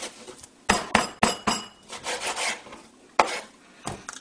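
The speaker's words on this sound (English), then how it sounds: "I'm going to cut this piece of rib in half" A knife works through a pork rib, cutting it in half: a series of short, rough scraping and grinding strokes at close range, uneven in rhythm, fairly quiet, without speech.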